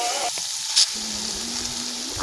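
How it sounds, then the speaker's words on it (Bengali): Soybean chunks frying in a pan, giving a continuous bright sizzle with a brief clink partway through. "সয়াবিনটা দিয়ে দিয়েছি দিয়ে সয়াবিনটা দিয়েও একটু ভাজা করে নিচ্ছি"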